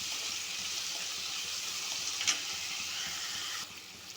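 Chopped onion sautéing in a pan for an okra curry makes a soft, even sizzle with one brief utensil scrape, before the hiss drops away abruptly near the end.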